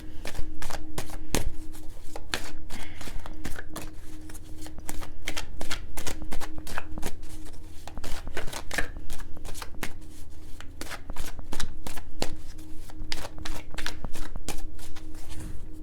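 Tarot cards are shuffled over and over nearby, a crisp rhythmic riffling and slapping that continues without pause over a low background hum.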